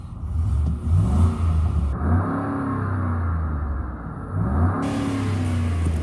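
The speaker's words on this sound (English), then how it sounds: "let me rev up the engine" A 2010 Ford F-150 XL pickup with a V8 Triton engine revs up several times, close and loud, the pitch rising and falling between steady idling stretches with no talk.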